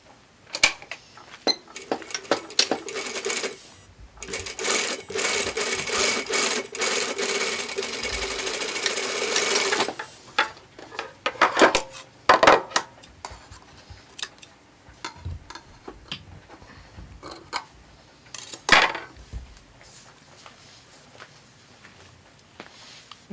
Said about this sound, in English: Now I am going to make a edge stitch,